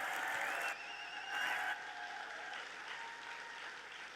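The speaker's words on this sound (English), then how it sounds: "Let's give her another big round of applause." Applause for a contestant at a Miss Indian World traditional presentation, a fairly faint, distant wash of clapping heard through a room with ringing, tonal sounds layered over it.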